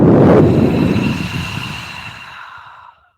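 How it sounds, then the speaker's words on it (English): A deep exhale out of the mouth during a hatha yoga session, one loud, breathy whoosh that starts strong and slowly fades over about three seconds, heard alone. "a big exhale out of the mouth"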